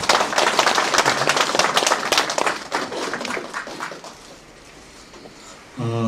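Audience at a year-end arts association party clapping loudly for a county head about to give a speech, a dense burst of applause that thins and fades out, then a brief tonal sound at the end.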